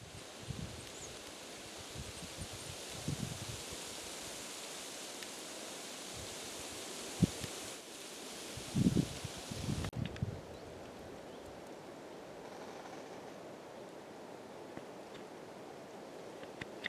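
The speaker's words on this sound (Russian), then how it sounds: "Как прекрасно шумят березки своей листвой." Birch leaves rustle softly in a light forest breeze, a faint continuous hiss with a few small rustles and knocks nearby.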